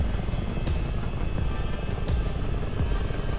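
Chinook helicopter in Microsoft Flight Simulator 2020 on a night flight: a steady, loud engine drone and rotor rumble runs throughout, with faint periodic blade thumps and no talking.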